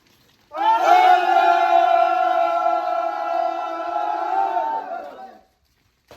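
A large gathering answers a takbir call with a sustained, loud collective chant of many voices in unison, lasting several seconds before cutting off abruptly.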